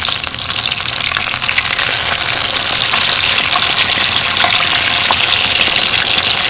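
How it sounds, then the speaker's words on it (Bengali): Eggplant slices sizzle in a generous amount of hot oil over low heat, a loud, continuous crackling fry close up with no talking. "উল্টে পাল্টে বেগুনগুলো বেশ সুন্দর করে ভেজে নিয়েছি"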